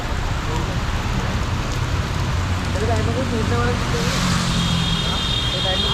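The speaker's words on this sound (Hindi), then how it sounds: "अभी देहरादून में इतनी तेज़ बारिश हो रही है" Heavy rain pours down in Dehradun as a constant dense hiss, close and steady, with faint traffic and a few brief tonal sounds emerging underneath.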